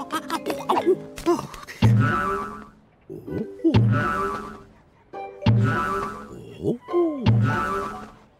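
Repeated cartoon boing sounds from a trampoline in an animated Mr Bean episode, four springy bounces at a steady rhythm, mixed with short comic vocal noises.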